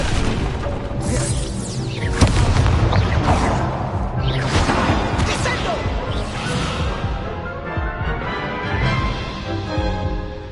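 Fire spell cast in Hogwarts Legacy, a dense run of loud magical whooshes, crackling bursts and impacts layered over game music and combat noise, with one sharp hit standing out partway through.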